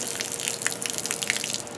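Water runs out slowly from a bucket, the small remainder splashing and trickling in a close, uneven stream of light splatters.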